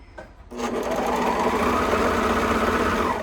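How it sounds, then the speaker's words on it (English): A sewing machine stitches down the crotch seam of a pair of cuffed leggings, starting after a brief pause and then running as a steady, close, continuous whir to the end. "You're gonna sew all the way down."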